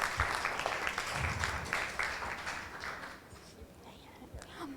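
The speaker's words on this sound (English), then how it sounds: "Round of applause, please." A conference audience at a fireside chat on sustainability reporting applauds in a brief burst of clapping that fades after a few seconds into quiet murmuring.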